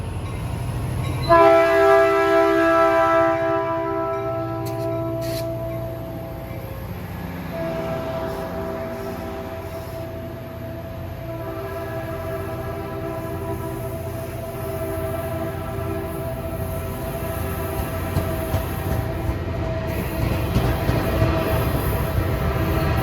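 A Caltrain diesel locomotive blasts its multi-tone horn loudly up close, then the train rumbles and clatters past steadily for a long stretch as the horn sounds again briefly.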